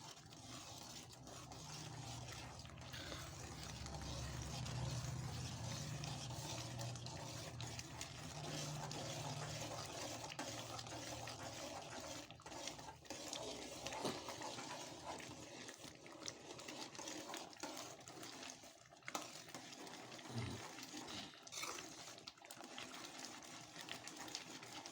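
Water pours into a hot pan of cardamom-spiced semolina while udura sajjaka is cooking, a steady rushing, hissing wash that runs for most of the stretch over a low hum before thinning into scattered clatter.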